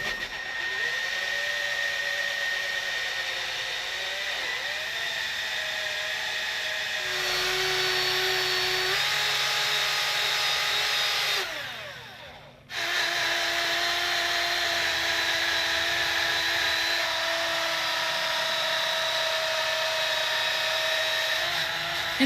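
A small electric buffing pad polishes the finish on an acoustic guitar headstock face, whining steadily and loud throughout with a few shifts in pitch and a brief dip as it lifts off and comes back on.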